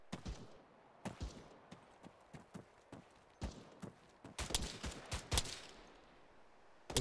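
A series of sharp gunshots crack out at irregular intervals, some in quick bursts, fairly faint and without any talking, in the video game Arma 3.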